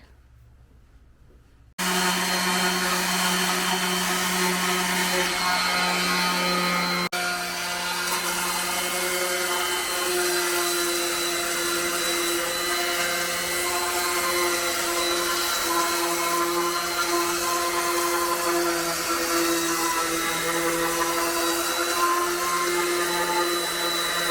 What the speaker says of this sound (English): the sanding finished